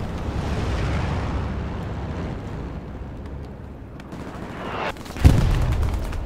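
Satchel charge detonating in the World War II shooter Hell Let Loose, a single loud blast near the end after a low, rumbling battlefield wash.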